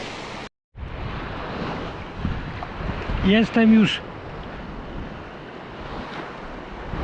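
Large sea waves breaking on a beach along the Baltic amber-hunting shore, a steady roaring wash with wind buffeting the microphone; someone speaks briefly over it midway.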